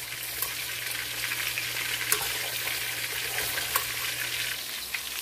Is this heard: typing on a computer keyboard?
no